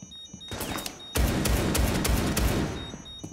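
Rapid automatic gunfire in Rainbow Six Siege, loud and close: a brief burst, then a sustained string of shots in quick rhythm.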